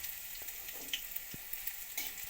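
Crushed garlic cloves, a split dried red chilli and a bay leaf frying in hot oil, giving a steady soft sizzle with a few small pops and crackles, close by and fairly quiet, no voices.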